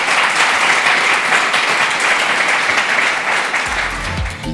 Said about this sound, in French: Applaudissements pour Gaël Le Marié